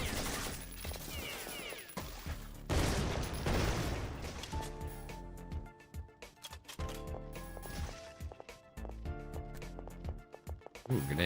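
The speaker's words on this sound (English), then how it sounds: "Ooh, grenades." Grenade blasts and heavy gunfire rattle through a busy video game firefight, with dense bursts of booms and crackling shots coming in waves, loud and close throughout.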